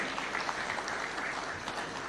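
Steady applause from an audience greeting award recipients at a State House taxpayers day ceremony, a dense, continuous clapping at moderate level with no talk over it.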